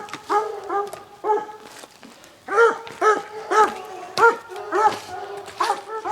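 A friendly dog barks and yips close by in a run of short, excited bursts, pausing briefly then resuming in a steady rhythm of about ten barks with a whimpery edge, no voices over it.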